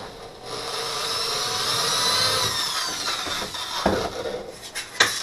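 A hole saw bites through a solar panel frame, a high grinding whine rising and holding steady, then breaking into scraping and a couple of sharp knocks as the cut finishes, close and loud with no talking.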